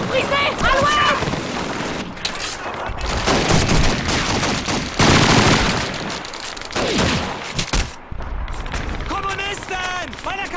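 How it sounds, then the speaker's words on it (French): MG42 machine gun bursts in a Call of Duty 2 World War II Russian campaign battle, dense sustained gunfire and explosions layered with shouting soldiers' voices throughout. "C'est une MG42!"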